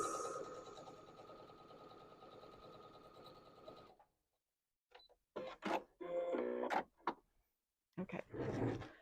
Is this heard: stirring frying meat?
no